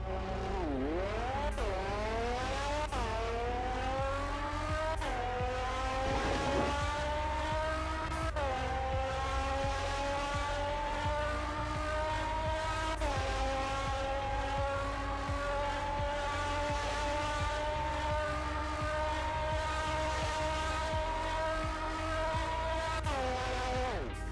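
A tuned rare luxury SUV in the Roblox game Fix It Up roars at high speed on a test road, its engine note climbing steeply through repeated upshifts and holding a loud, steady wail, with tire squeal mixed in throughout.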